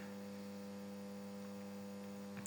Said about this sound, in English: You can actually hear the humming of the ballast.